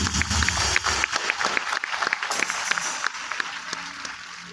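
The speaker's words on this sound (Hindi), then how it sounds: "अपने स्वागत में तालियां बजा लें।" Audience at a poetry concert breaking into applause, a dense burst of clapping that thins into scattered claps over several seconds, close and fairly loud.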